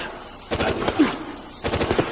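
Matilda handgun in Resident Evil: Operation Raccoon City, two quick bursts of rapid shots about a second apart, fairly faint against a quiet game background.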